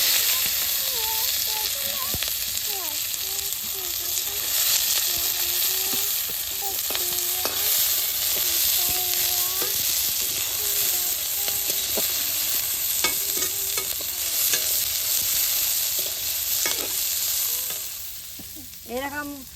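Garlic and onion fry in a pan with a little oil and chili for a peanut paste, giving a steady close sizzle broken by repeated stirring scrapes and squeaky utensil strokes.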